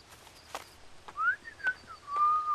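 A person whistles to imitate and call to birds outdoors, several short rising and sliding whistles with small gaps between them, close by and fairly quiet.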